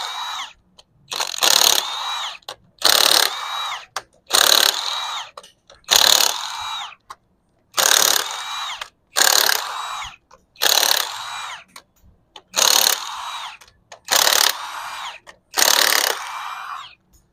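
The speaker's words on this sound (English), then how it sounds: "Vamos separando los tornillos de las cabezas para separarlas." Ratchet wrench loosening bolts on the cylinder heads of a truck engine in a repair shop, in about eleven separate bursts of rapid clicking, each a second or so long with short pauses between, close and loud, no speech.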